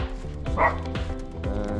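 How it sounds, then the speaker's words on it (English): Dogs bark close by in a few short, sharp yips and woofs over a steady low background hum, with no talking. "Some cute doggos."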